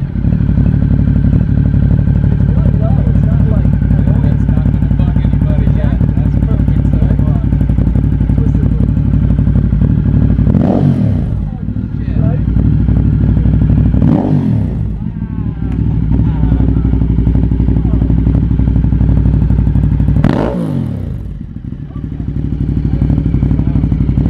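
A motorcycle fitted with a new Termignoni race exhaust idles with a loud, deep, steady rumble, broken by three sharp revs that swell and fall back, close by with people talking over it.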